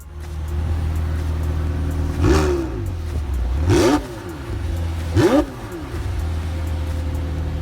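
A McLaren 720S engine idles loudly on a cold start with a deep rumble, revving up three times in short bursts, backfiring with pops and crackles between revs.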